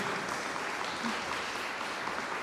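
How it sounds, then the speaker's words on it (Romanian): An audience claps steadily as musicians are introduced at a chamber concert in a university hall, with dense, even applause throughout and no pauses. "dacă mă și ajutați cu niște aplauze, Andrei Jojie, contrabas."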